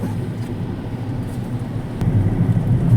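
A car engine labours harder as it climbs an uphill road toward Kurseong, a steady low drone that swells in strength toward the end, with no voices over it.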